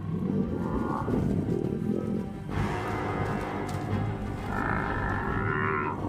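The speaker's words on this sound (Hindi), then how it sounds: "लेकिन नन्हे मपोगो और उनके भाई बहन भैंसों के भड़के हुए हमलावर झुंड के बीच फंस गए हैं।" A herd of enraged wild African buffalo charges at lions in the Sabi Sand reserve, with deep bellowing grunts and moans over a rumbling, thundering mass of movement, loud and close, with no talk.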